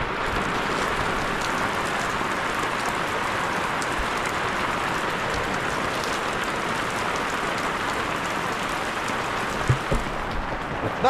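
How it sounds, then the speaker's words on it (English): Heavy rain, the first in a long time, pouring down outside in a steady, dense hiss that stays even and close throughout, with a few small knocks near the end. "It's not rained for a long time and it's letting it have it out there."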